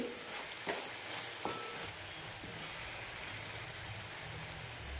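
Garlic chutney frying in oil in a pan, giving a steady, dense sizzle that holds evenly throughout, close and without any voices.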